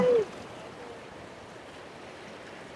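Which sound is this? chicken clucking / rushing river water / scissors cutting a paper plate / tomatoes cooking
rushing river water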